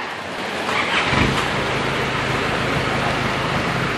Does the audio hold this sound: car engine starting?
yes